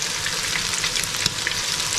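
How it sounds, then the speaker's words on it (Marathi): Prawns fry in spicy oil for tikka biryani, a dense, loud, continuous hiss and crackle close up with small pops throughout and no voices. "जेव्हा असं फ्राय होतं ना, असं तेलामध्ये जाताना"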